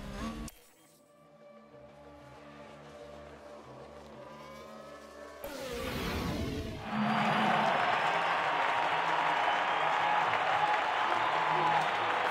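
A large Formula 1 race crowd in F1 Manager 2022 roars and applauds loudly and continuously, building into a sustained wall of cheering after a quieter opening with engine-like drones.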